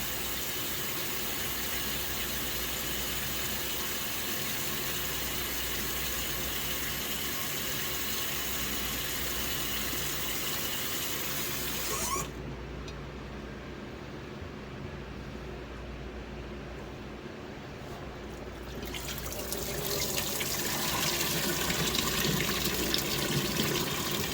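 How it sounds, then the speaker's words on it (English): Water runs steadily from a tap over coconut husk being rinsed, a continuous close hiss and splash that thins briefly midway and then grows fuller as the flow resumes, with no speech. "Just rinse it like I let it overflow a little bit, run over, so that it kind of rinses it clear."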